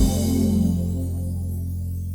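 A Yamaha PSR-SX900 keyboard style accompaniment finishes on a sustained final ending chord that holds and slowly decays, with no talking.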